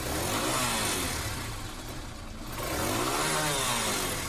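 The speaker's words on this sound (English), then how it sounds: "dub over a weedy little 125cc engine noise" A small, thin-sounding 125cc motorcycle engine revs up and down in steady waves, dipping briefly in the middle before climbing again.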